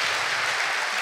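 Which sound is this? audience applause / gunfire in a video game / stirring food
audience applause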